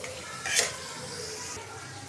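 Spices fried and stirred in a pan give a soft continuous sizzle with a brief scraping clatter of the spoon near the start, fairly close and moderate in level.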